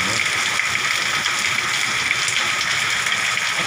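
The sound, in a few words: hailstorm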